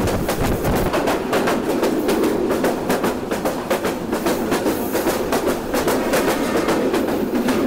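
The Korotoa Express runs between Bogura and Sonatala with a steady loud rumble and rapid rhythmic clickety-clack of wheels on rail joints, heard from on board with no talk.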